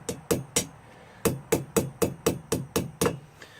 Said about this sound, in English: hit it just as hard as I'm hitting with this hammer